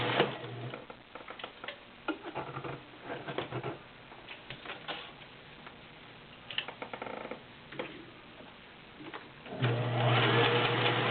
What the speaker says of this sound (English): I'm going to pull it out and put it in low gear so you can hear the difference.